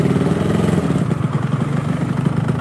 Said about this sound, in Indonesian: Ini mesin kemproyok begini jangan di Blayer, cuma buat ngecek rasa aja dulu.